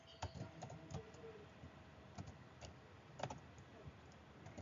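Keyboard typing while entering an outfit search term in a character creator game, soft irregular key clicks in short bursts at low level, fairly close, with no talk.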